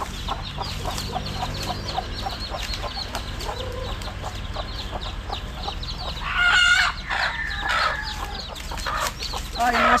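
Chickens cluck continuously nearby, with a louder burst of squawking calls midway over a busy farmyard background.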